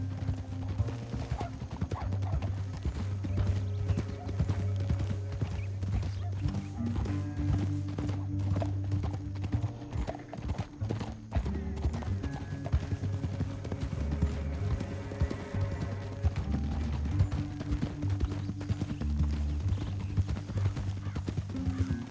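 Horse hooves clip-clop steadily through Red Dead Redemption 2, mixed with whinnies and neighs over a bed of sustained game music that runs throughout.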